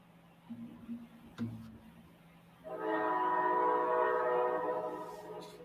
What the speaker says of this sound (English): how close are you to them train tracks?